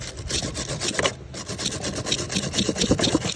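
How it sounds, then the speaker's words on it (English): Rust being scrubbed off car battery terminals during a mobile battery replacement, a steady close raspy rubbing and brushing with quick repeated strokes, continuous for several seconds with no talking. "we're just gonna clean off said battery terminals"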